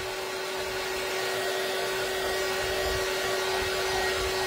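A hair dryer blows on a refurbished Mason jar bottle in a constant, close whirring drone with a steady tonal hum, running unbroken throughout.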